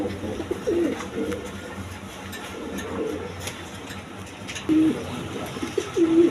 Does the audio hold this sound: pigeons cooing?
yes